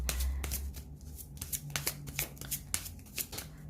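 A deck of oracle cards shuffled by hand up close, with a quick run of crisp riffling flutters and soft slaps repeating in a steady rhythm.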